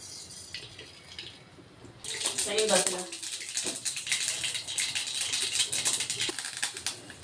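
Quiet background, then a sudden burst of rapid crackling and popping as mustard seeds splutter in hot oil, continuing densely and steadily close by.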